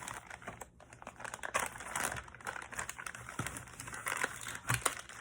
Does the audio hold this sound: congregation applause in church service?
no